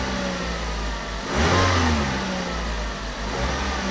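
A car engine revs up as the accelerator pedal is pressed, a mid-pitched swell rising to a louder peak near the middle, then settling back to a steady idle hum.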